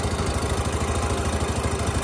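A Yamaha Mio MXi125 scooter engine idles steadily after a refresh, a close, loud, even putter with a regular pulsing rhythm throughout.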